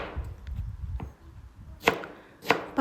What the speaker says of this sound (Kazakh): Ең алдымен біз қызылшамызды осылай үлкенірек қып турап аламыз.